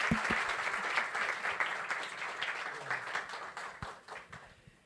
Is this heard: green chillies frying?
no